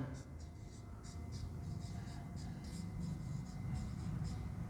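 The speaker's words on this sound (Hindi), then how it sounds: "जैसे नाम लिखता हूँ मैं" A pen or marker scratches across a board or paper as a chemical formula name is written, in short repeated strokes close up, under someone speaking in Hindi.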